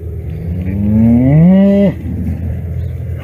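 A ranch cow gives one loud, close moo that rises and holds for about a second and a half before cutting off, with outdoor background noise continuing afterward.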